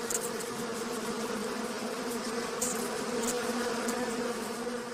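A dense swarm of bees buzzes steadily and loudly at close range, mobbing a death's head moth that has been brought down, the droning unbroken throughout.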